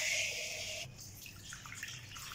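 Water poured from a cup into a bowl of vinegar for marinating chicken for fried chicken dabo, a steady splashing stream that stops abruptly partway, followed by quieter sloshing and trickling, fairly close with no talking.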